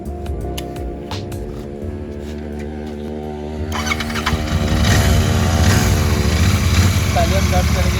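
Royal Enfield Continental GT 650 twin-cylinder motorcycle engine idling steadily, then revving up to a louder, rougher drone partway through, close and continuous.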